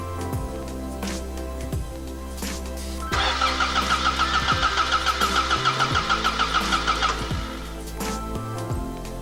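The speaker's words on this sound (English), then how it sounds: "Now, let's crank the engine and see if the voltage drops below 1 volt." A Toyota engine cranks over on its starter for about four seconds, a loud, steady, rapid pulsing chug, with engine hum before and after.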